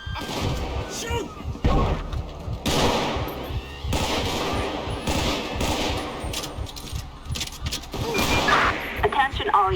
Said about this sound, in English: Shots fired at an officer.